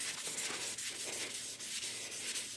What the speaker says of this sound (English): I'm turning the stick while I'm going up and down the shaft like this with the magic eraser